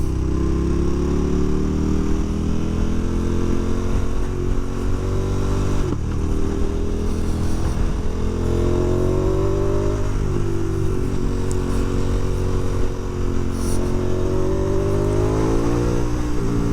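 A KTM 1290 Super Adventure S motorcycle accelerates uphill, its engine roaring loud and steady up close, revs climbing and dipping through gear changes without pause.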